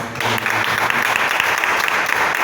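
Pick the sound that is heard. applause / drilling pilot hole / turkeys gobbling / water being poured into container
applause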